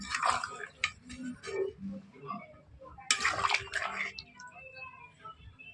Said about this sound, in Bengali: এই জল দিয়ে দিচ্ছি মাংসতে